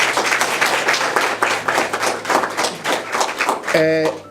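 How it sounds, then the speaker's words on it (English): A seated audience at an opening bell ceremony applauds visitors with a steady, dense wash of clapping for about four seconds, ending with a brief tonal sound. "let's give a big round of applause to our visitors today."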